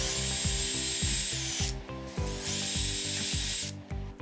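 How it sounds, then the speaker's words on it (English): A power drill whirs steadily with a rhythmic, grinding chatter as it bores holes through a metal mason jar lid, briefly easing off twice before starting again. "we have to drill two additional holes for mounting the PCB standoff"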